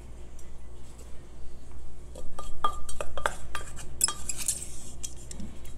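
Crock pot and utensils handled while melting beeswax in oil, with a series of light metallic clinks and knocks, close and fairly soft, bunched in the middle of the stretch with no talking.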